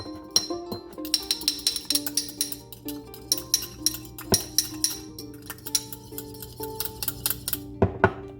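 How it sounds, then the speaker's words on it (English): An egg yolk and a little milk beaten for egg wash, a quick run of clinking utensil taps against a bowl in a steady rhythm, close and fairly quiet. "we just need 1 egg yolk and a little bit of milk, just like that, around maybe half a tablespoon, and then we'll just beat it"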